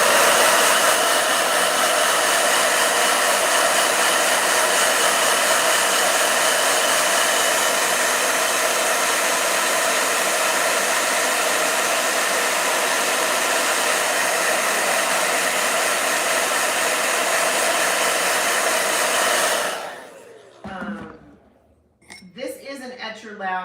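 A large hair dryer blows with a loud, constant roar for about twenty seconds, then shuts off, leaving a few faint clinks and light handling noises.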